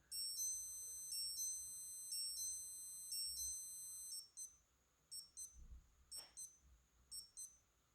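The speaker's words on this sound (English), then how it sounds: "that's just telling you your alarm" High electronic beeping from a Rotary G3031 chronograph digital watch alarm, a rapid repeating pattern for several seconds, then shorter scattered beeps, quiet and close.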